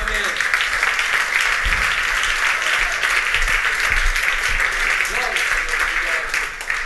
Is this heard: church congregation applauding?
yes